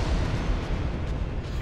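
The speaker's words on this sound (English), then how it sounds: "Oh, an explosion!" A sudden explosion in the video game Dark Souls, set in Blighttown, bursts out as a dense, loud low rumble and crackle that holds steady for under two seconds with no voices.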